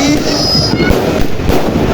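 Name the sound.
fireworks and firecrackers going off at New Year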